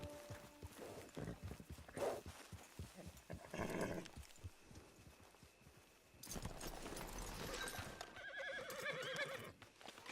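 Horse neighing and hooves in Red Dead Redemption 2 Online at a camp, with whinnies breaking out amid clopping and ambient game sounds, the louder neighs coming later.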